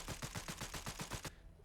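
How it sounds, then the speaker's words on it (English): First-person automatic fire from the Vulkan-M (Malyuk) gun in Fallout 4: a loud, rapid burst of about ten evenly spaced shots that stops abruptly, leaving a short quiet tail. "Here is our Malyuk in first person, and here's what it's like when it's firing."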